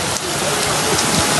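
Heavy rain pours down during a storm in São Paulo, a dense, steady broadband wash of drops hitting surfaces, loud and continuous throughout with no voices.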